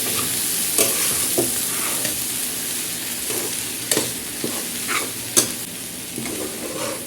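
A spoon stirs and scrapes a fish puttu mixture in a pan on the stove over a soft steady sizzle, with irregular clinks and scrapes as it is turned.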